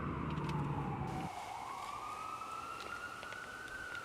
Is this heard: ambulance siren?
yes